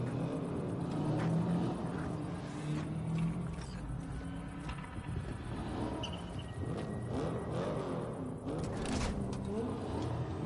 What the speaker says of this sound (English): Start your engines, folks.